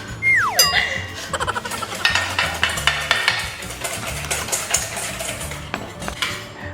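Doughnut batter being mixed in a bowl for a crispy no-knead doughnut recipe, with steady scraping and clinking of a utensil against the bowl in an irregular rhythm, close and fairly loud throughout.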